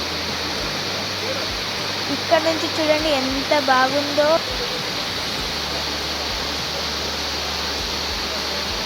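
Abbi Falls waterfall in Coorg, a loud, constant rushing roar filling the whole clip, with a voice talking briefly over it partway through.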